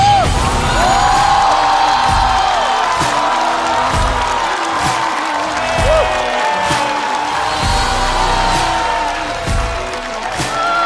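A television stand-up comedy studio audience clapping and cheering as comedians enter, sustained loud applause with whoops, mixed with music and a host's voice.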